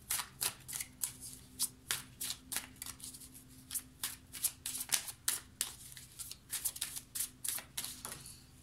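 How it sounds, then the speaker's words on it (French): Tarot cards are handled and laid face down one after another, producing rapid papery flicks, snaps and shuffling rustles that repeat steadily up close with no talking. "Je vais recouvrir les cartes."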